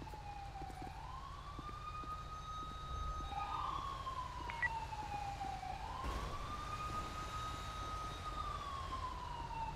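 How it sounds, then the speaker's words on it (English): An emergency vehicle siren in a video game wails in long rising and falling sweeps, steady and moderately loud, over a low engine rumble. "Anyone who uses an air horn more than like 10 times in 10 seconds, definitely an ambulance guy"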